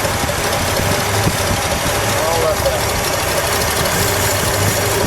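A 1972 Lincoln Continental Mark IV's 460 V8 idles with a steady low rumble and light ticking, while a person briefly speaks over it.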